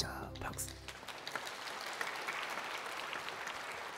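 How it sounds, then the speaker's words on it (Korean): A church congregation claps steadily during a sermon, a sustained wash of applause that holds at an even level through the clip after a voice is heard briefly at the start. "아, 진짜 박수"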